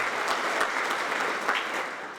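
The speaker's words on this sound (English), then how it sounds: "Let's give him a great round of applause" An audience at the Winchester Citizen of the Year 2014 event applauds, a steady, full round of clapping that fills the room at a consistent level from start to finish.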